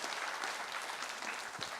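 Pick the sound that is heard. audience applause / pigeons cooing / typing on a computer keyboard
audience applause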